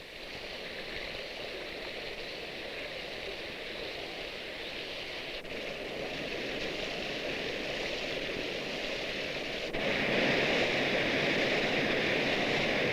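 A towering waterfall in Japan roars as a steady, dense wash of falling water, loud and continuous throughout, swelling slightly louder near the end, with no voices.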